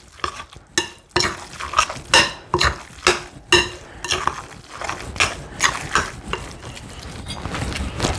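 Meatloaf mixture seasoned with black pepper being mixed in a bowl, a close run of wet squelching, slapping strokes in a fairly regular rhythm, loud and alone.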